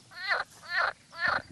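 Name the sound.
frogs croaking loudly by a river before rain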